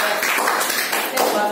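Brief burst of audience clapping in a school class presentation, a close, continuous patter lasting just over a second.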